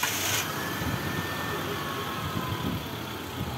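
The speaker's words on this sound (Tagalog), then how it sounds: "pwede ko nang i-start itong makina." A Mitsubishi Fuzion engine, which pulls weakly on climbs, runs at a steady idle, a low continuous hum heard at moderate distance with a faint higher whine above it.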